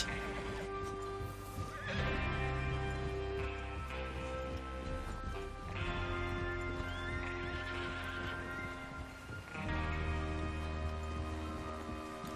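Horses whinny repeatedly over a steady clatter of hooves and a rich background soundscape in the video game Red Dead Redemption, the neighs loud and close at intervals.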